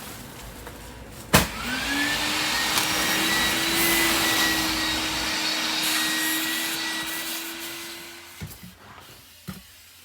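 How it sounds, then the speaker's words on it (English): A vacuum cleaner starts with a click, whines steadily at close range for several seconds while vacuuming out a car, then shuts off, followed by a few knocks and clunks. "I'm gonna have to vacuum out the car."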